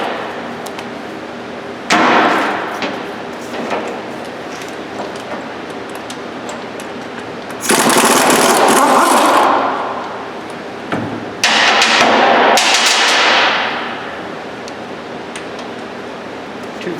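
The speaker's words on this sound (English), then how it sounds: "I'm pop the caliper off using a 15 millimeter on the back side." A 15 mm socket pulls the brake caliper off a Ford Explorer during ball joint and control arm work. A steady ratcheting and grinding runs throughout, with loud metallic bursts near the start, middle and late on.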